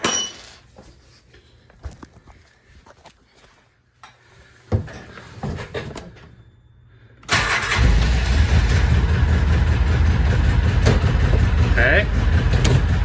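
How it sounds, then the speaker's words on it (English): A Polaris Ranger utility vehicle engine cranks and catches, then runs loud and steady at idle for several seconds after quieter clunks and handling noises; a voice speaks briefly before it starts. "Let's start it up. Let's see what happens."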